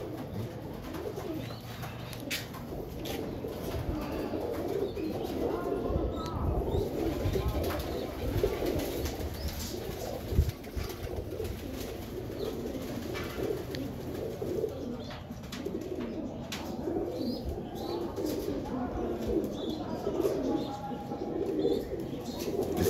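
A pigeon held in the hand coos repeatedly in low, steady murmurs amid rustling and handling noise, with a faint brief flutter and no clear talk over it.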